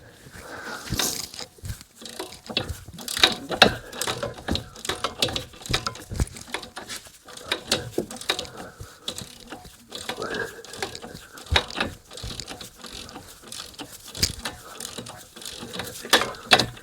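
A socket ratchet on an extension works at a car's tie rod, giving repeated close bursts of ratcheting clicks in irregular runs with short pauses between strokes.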